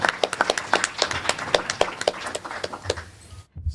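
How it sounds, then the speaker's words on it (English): Audience applause at a climate change forum, a dense patter of many hands clapping steadily before it cuts off abruptly near the end. "So please give a round of applause for our new advisory group."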